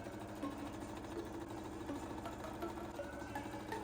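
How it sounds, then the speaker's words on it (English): A home sewing machine stitches the seam of a folded dress sleeve, a steady continuous mechanical hum with fast regular needle ticking, close and unbroken throughout. "I fold it in half and sew the seam here."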